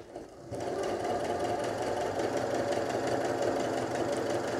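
After a brief pause, a sewing machine starts up and stitches a dart in fabric with a close, steady rapid whirring and needle clatter that runs without a break to the end.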